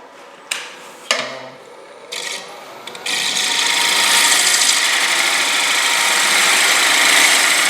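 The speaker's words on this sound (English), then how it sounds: "The advantage of a bottom bowl gouge is it allows you to do this cut across the bottom," A bottom bowl gouge rides the bevel across the bottom of a wooden bowl spinning on a lathe, with a few sharp initial contacts giving way to a loud, steady, hissing cut that continues to the end.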